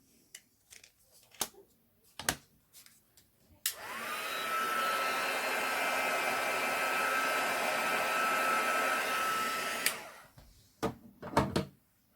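A hair dryer blows steadily for about six seconds while drying a stamped card background, close and loud, framed by scattered clicks and handling taps of craft tools before and after.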